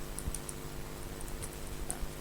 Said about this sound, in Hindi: अब मैं यहाँ पे एक हेडिंग टाइप करता हूँ H1 की या H2 की।